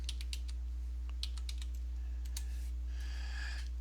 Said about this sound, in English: everything that I type in, you guys will see how I find this stuff.